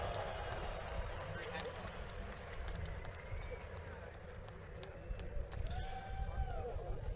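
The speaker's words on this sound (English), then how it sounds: "Round of applause for the top 3 finishers here at round 5 of the Formula Drift Championship presented by GoPro" Spectators at round 5 of the 2015 Formula Drift Championship in Seattle give a distant, steady patter of clapping beneath a loud announcer talking over a broad crowd hubbub.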